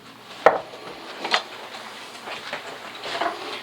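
A knife slices a kiwi in half in a home kitchen, giving two short, fairly faint knocks against the cutting board with quiet room noise between.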